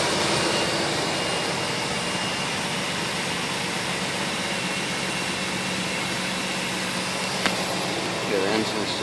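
Engine of a 1997 Astro Safari van idling while warmed up, a steady broad roar and hum with no change in level over nine seconds, close and loud.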